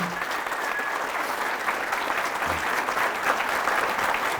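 A church congregation applauds loudly after a prayer, a thick continuous wash of clapping from many hands filling the hall evenly from start to finish.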